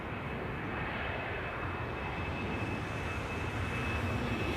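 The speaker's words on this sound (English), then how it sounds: "Air France to Lyon is now taking off" An Air France jet climbs out of Amsterdam Schiphol bound for Lyon, its engines a steady, loud broadband roar with a thin high whine running through the whole stretch.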